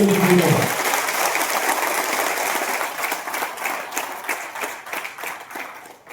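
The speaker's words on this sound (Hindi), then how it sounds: "एक बार ताली पड़ा लो" An audience at a talk breaks into loud, dense applause that carries on for several seconds, briefly overlapping the tail of a voice at the start, then slowly thinning out.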